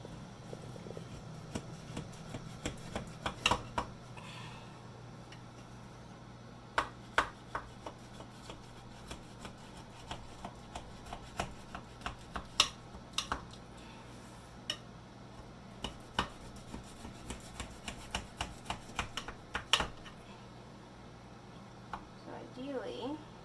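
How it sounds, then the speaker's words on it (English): A knife cuts chilled pemmican with hardened fat into little bars, making scattered sharp taps and clicks against a board, quiet and irregular over a faint steady hum. "after the pemmican is chilled, the fat hardens, and then you can cut it up into little bars."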